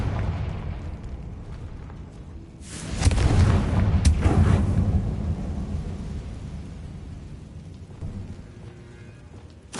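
A Confringo blast spell erupts in a video game, a loud booming burst with a rumbling tail that swells and lingers for several seconds before fading, with a sharp crack inside it.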